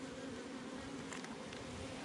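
Dense, steady buzzing of many honeybees close by at a hive, a continuous hum with no voices.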